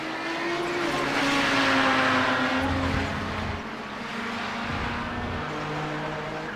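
GT race cars roar around Phillip Island circuit, engines swelling and fading as they pass with a steady tonal drone, a tire sliding faintly mid-run, no voices.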